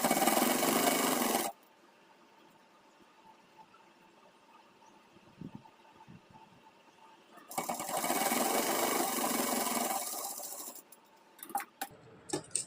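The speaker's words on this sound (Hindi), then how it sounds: "तो इसी तरह से फिनिशिंग के साथ पूरे में सिलाई लगा लेना है" An electric sewing machine stitches an Afghani salwar in two loud, fast whirring bursts, the first about a second and a half and the second about three seconds, separated by a quiet stretch with soft fabric handling and a few clicks near the end.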